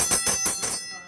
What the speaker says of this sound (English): Now, after the bell rings and Jay calls chow, everyone finds their way